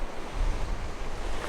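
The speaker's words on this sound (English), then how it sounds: "Here we are boys, down at the beach." Waves break and wash on a beach under gusting wind, a loud continuous roar with wind buffeting the microphone and no voices.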